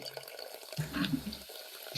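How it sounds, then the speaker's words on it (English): Liquid splashes and runs briefly, like a pour into shot glasses, rising to a fuller gush in the middle then tapering off, fairly quiet and close with no voices. "fills 3 shot glasses"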